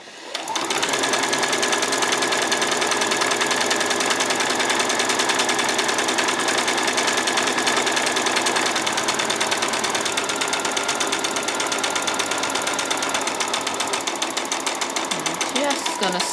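A sewing machine stitches a doll's skirt in a fast, steady mechanical whir, close and continuous, with a voice talking over it.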